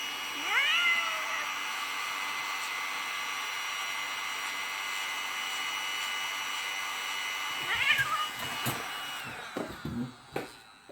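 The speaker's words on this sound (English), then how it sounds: "It's obviously loud enough to freak out the cat." A frightened cat meows loudly twice, with a long drawn-out cry near the start and another partway through, over the steady whine of an electric pet hair vacuum trimmer that shuts off near the end with handling clatter.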